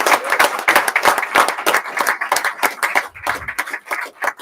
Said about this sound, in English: Let's hear a huge round of applause for these tremendous students